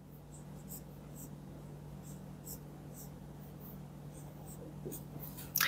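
A pen scratches out numbers during a fraction lesson, a series of faint, quick strokes in an otherwise quiet room with a low steady hum.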